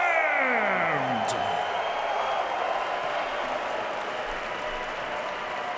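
A Pittsburgh fight crowd applauds and cheers a knockout win, dense sustained clapping and whoops filling the arena at full volume, with a sweeping whoosh at the start and no distinct speech.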